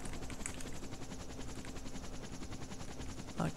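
Helicopter in the DayZ video game, a steady mechanical drone with a fast rotor chop that holds at an even level throughout, with no talking.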